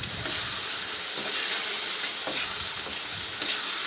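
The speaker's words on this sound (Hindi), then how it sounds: "हम इसमें पानी डालकर इसको 10 मिनट के लिए पका लेंगे" Raw mango chutney cooks with sugar and water in a pot, producing a steady, close bubbling hiss with faint soft knocks from stirring.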